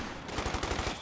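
Machine gun fire in a war strategy video game, a rapid rhythmic burst of about seven evenly spaced shots over a steady background bed, moderately loud.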